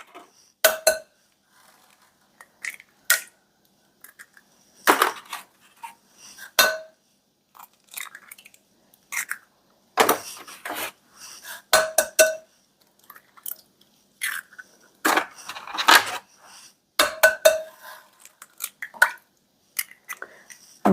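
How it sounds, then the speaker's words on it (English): Eggs are cracked one after another into a bowl for a farmhouse breakfast casserole, giving sharp, close taps and wet cracks in an irregular series separated by short quiet gaps. "So we're going to just crack these eggs really fast."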